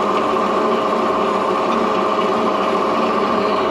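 A mini lathe facing off a workpiece gives a steady, continuous machine whine with a high-pitched motor tone and light cutting noise, running evenly and close by with no talking.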